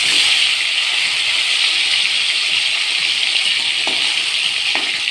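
Fish frying in hot oil in a home kitchen: a steady, loud broadband sizzle runs throughout, with a couple of faint clinks near the end and no one talking.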